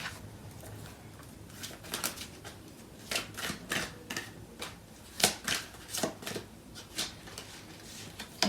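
Tarot cards being shuffled and handled during a love reading, a close series of soft papery riffles and flicks in an uneven rhythm, fairly quiet and with no one speaking.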